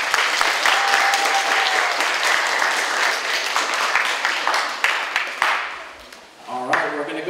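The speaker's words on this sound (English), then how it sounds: "let's give them another round of applause." A crowd applauds steadily for several seconds at a DARE graduation, a dense wash of clapping that fades out near the end as a voice begins.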